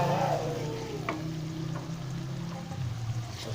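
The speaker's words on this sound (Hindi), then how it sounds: "अभी इसको मैं अच्छे से भुनाई करूँगा" Steady sizzling of spices frying in a pan for a pumpkin and chana dal dish, a continuous broadband hiss with a few faint clicks and stirring scrapes, close by and without talk.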